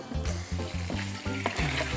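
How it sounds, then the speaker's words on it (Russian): Meat sizzling and frying in vegetable oil in a home kitchen pan, a steady hiss broken by rhythmic clatters as the pieces are stirred and turned, close and fairly loud, with no talk. "Теперь, Руслан, мы будем обжаривать мясо. Так, на растительном масле"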